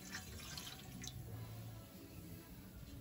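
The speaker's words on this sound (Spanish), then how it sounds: "Voy a poner 1/4 de litro de agua para cocer los chiles." Quarter litre of water poured into a pot for cooking guajillo and árbol chiles, a faint trickling and dripping splash heard close up in a quiet kitchen without speech.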